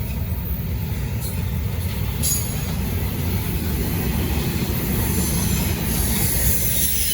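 A Norfolk Southern freight train rolls past in Charlotte, a loud continuous low rumble of wheels on rails with high metallic squeals rising near the end.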